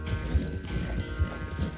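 Rhythmic, muffled hoofbeats of a galloping horse in Red Dead Redemption 2, repeated thuds in a quick steady pattern under a low game-world rumble.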